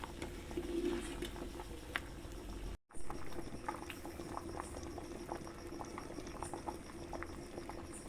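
Foxtail millet boiling in salted water, a continuous close bubbling and gentle popping that runs throughout, interrupted once by a brief cut to silence.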